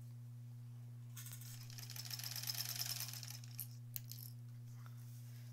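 A sewing machine stitches quilt backing for a granny squares quilt, a soft rapid whirring run of about two and a half seconds followed by a few faint clicks, quiet over a steady low hum.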